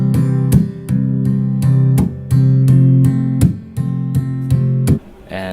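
Acoustic guitar strummed percussively through an amp on an acoustic setting, imitating a simple bass-and-snare drum beat: steady rhythmic chord strikes with sharp slap accents, close and loud, no talking.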